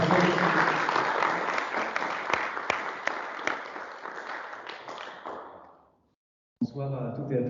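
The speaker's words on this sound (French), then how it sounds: "applaudissez-le très fort" An audience applauds at an evening meeting on commercial leases, steady dense clapping that gradually fades out, followed by a brief silence before a voice begins speaking.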